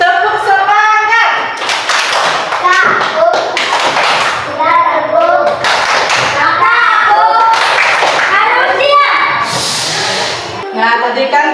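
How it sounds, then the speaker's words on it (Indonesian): A classroom of children performs a rhythmic spirit clap routine, bursts of clapping mixed with loud group chanting and voices throughout, close and lively. "Tepuk semangat."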